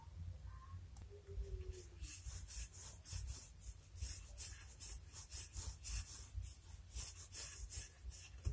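Two-colour cookie dough is rolled out with a rolling pin, giving a quiet, rhythmic rubbing and scraping in repeated strokes over a low steady hum, close up with no talk.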